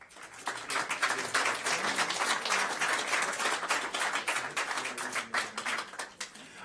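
Sustained clapping from an audience at a school board meeting, a dense steady patter of many hands lasting several seconds before tapering off at the end.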